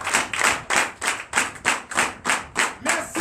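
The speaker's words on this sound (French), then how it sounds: "que je vous demande d'applaudir très fort" A church congregation claps in unison, about ten even, steady beats a little under half a second apart, moderately loud with no talking.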